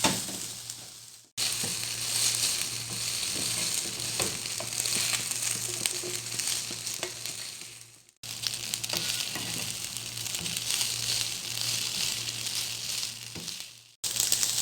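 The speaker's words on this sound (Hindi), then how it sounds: "अब हम इसमें पास्ता ऐड कर देंगे और इसे अच्छे से मिक्स कर लेते हैं" Pasta stirred into cooked chicken and spices in a pan, a continuous loud sizzle with scraping stir strokes, broken by two short silent gaps.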